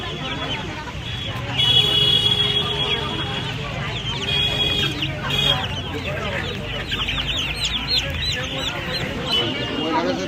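Month-old Kadaknath chicks and chickens cluck and peep amid steady crowd noise at the Uluberia poultry market, with voices talking throughout over the birds.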